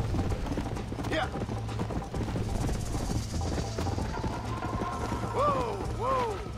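Horse hooves clip-clop in a fast, steady gallop in the Western video game Red Dead Redemption, fairly faint under game sound, with brief rattling noises near the end.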